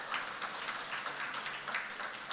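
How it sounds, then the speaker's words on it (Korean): Applause from a seated audience for a speaker at a maker event in Seoul, soft and somewhat distant, with continuous overlapping claps throughout. "주철한 대표님께 다시 한번 큰 박수"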